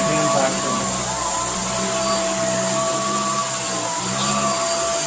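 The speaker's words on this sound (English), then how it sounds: "why would you ever want a crappy hand vacuum?" An APOSEN H120 cordless hand vacuum whirs steadily and loudly throughout, a constant high motor whine with a low rumble underneath.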